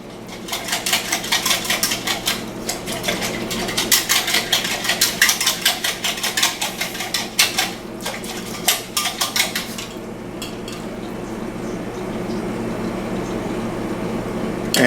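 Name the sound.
whisking brown gravy mix in a pan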